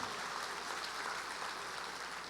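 Steady applause from a church congregation, a continuous wash of clapping at moderate level with no voices over it.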